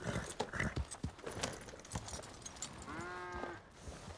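A horse's hooves clip-clop in an uneven rhythm while it is led out toward a corral on a farm, the close, crisp strikes coming one after another, with a short vocal sound near the end.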